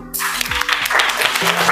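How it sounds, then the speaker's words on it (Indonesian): Classroom applause from a seventh-grade class, a dense wash of clapping from many students that fills the room, with voices and chatter layered over and under it. "Beri tepuk tangan buat Zahra"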